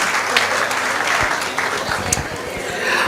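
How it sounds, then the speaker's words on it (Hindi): Loud, steady applause from a large audience at a Mahesh Navmi festival stage event, welcoming the association president; dense clapping fills the whole stretch without pause. "एक बार जोरदार तालियों से मंडल अध्यक्ष का स्वागत हो जाए"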